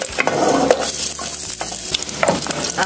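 Yellow ají amarillo chili and garlic browning in hot oil for ají de gallina, with a loud, busy sizzle punctuated by repeated clattering scrapes of a spoon against the pan.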